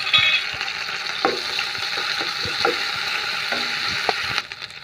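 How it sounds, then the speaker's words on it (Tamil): Ginger garlic paste and green chillies frying in oil for a chicken curry, a steady close sizzle with a few sharp stirring scrapes throughout. "பச்சை மிளகா போட்டாச்சு. நெக்ஸ்ட்டு அரை பூண்டு இஞ்சி பூண்டு பேஸ்ட்டு விழுது போடுறேன்."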